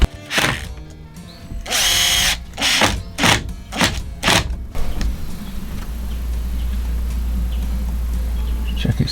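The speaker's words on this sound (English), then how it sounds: "need a couple of screws in there" Power drill or driver bursts while screws are driven into a ceiling panel inside a DIY campervan build, several short whirring runs near the mic, followed by a steady low hum.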